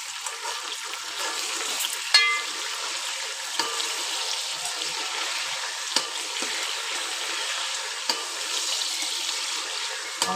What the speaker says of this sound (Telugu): వంకాయ అయితే మంచిగా ఇట్లా ఫ్రై అవుతుంది కదా, ఒకసారి మనమంతా కలుపుకోవాలి